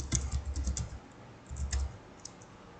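Someone types on a computer keyboard in two quick bursts of close, clicky keystrokes, with a short pause between them and a lone tap at the end.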